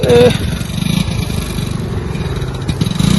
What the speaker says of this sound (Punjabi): ਦੋ ਪਹੀਆ ਵਾਹਨ ਜੋ ਨੇ ਉਹ ਇੱਕ ਸਾਈਡ ਤੋਂ ਨਿਕਲ ਰਹੇ ਨੇ